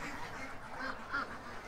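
Ducks quack faintly in the background, with two brief calls standing out over a steady outdoor hiss and no talking.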